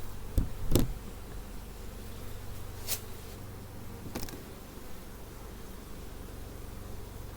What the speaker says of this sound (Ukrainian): вони навіть вище сидять, це дійсно рій